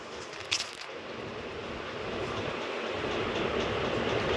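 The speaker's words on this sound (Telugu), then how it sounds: "అండ్ ఈ ట్రైన్ని మనం ఎక్కొచ్చు అండ్ నడపచ్చు" A train runs along the rails at a station platform, its low rumble and rolling wheel noise building steadily louder after a brief sharp knock near the start.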